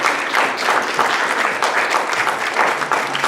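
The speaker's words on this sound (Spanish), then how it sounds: "Denle un aplauso al Señor." A church congregation applauding, dense clapping sustained at a steady level throughout, fairly loud and close.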